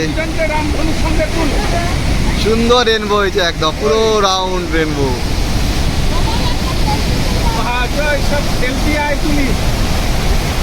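A waterfall roars in a loud, constant rush close by, filling the whole stretch, while people talk excitedly over it in the middle and again near the end.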